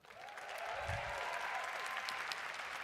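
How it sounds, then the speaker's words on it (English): Crowd applause at a graduate hooding ceremony for a school of the arts, rising quickly then holding as a steady wash of clapping from a large audience, somewhat distant. "please, graduates, let us give a round of applause for the people who helped make this possible"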